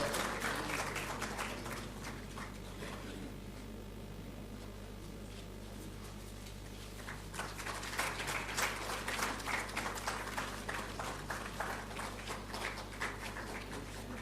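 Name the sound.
applause as award winner receives prize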